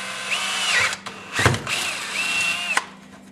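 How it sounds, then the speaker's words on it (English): A power drill whirs in two short high-pitched bursts, separated by a sharp clunk, close and loud as it bites into a pipe. "we're going to drill a hole straight down into it"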